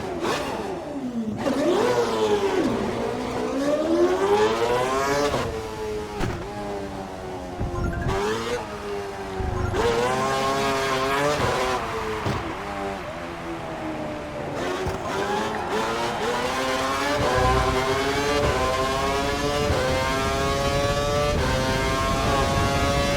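A Formula 1 car in the F1 2012 racing game screams through a timed young-driver test run, its engine loud and continuous, rising and falling through repeated upshifts and downshifts.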